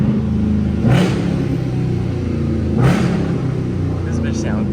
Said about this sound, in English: I'm gonna rev for y'all under the tunnel.